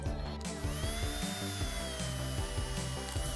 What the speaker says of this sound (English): I'm just going to drill a little hole through it.